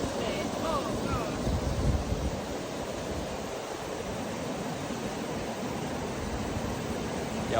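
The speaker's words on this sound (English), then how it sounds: "It's nice and windy." Steady wind blowing across an open wheat field during harvest, a continuous broadband rush with gusty swells, close and fairly loud, with no other clear sounds.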